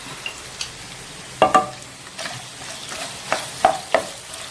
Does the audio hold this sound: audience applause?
no